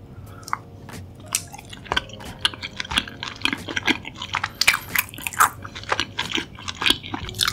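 Close-up eating of songpyeon rice cake in a mukbang, with soft sticky bites and chewing clicks and squelches repeating irregularly over several seconds, intimate and moderately loud with no talking.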